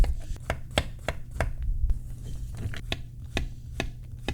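Courgettes sliced on a bias into quarter-inch pieces with a knife on a cutting board, a steady run of sharp, close chopping taps at a quick, even rhythm.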